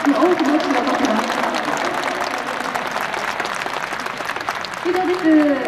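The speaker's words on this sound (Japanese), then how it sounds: "大きな拍手を取ってます。" Audience applause at an aerobatics grand prix event in Japan: a dense, continuous clapping roar from a large crowd, with an announcer speaking over it briefly at the start and again near the end.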